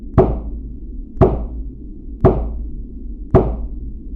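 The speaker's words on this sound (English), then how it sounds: "Return to the west of the altar and deliver 4 knocks." Four sharp, evenly spaced knocks, about one second apart, are delivered at the altar during a Golden Dawn temple-closing ritual, each a crisp, close, hollow strike over a low background hum.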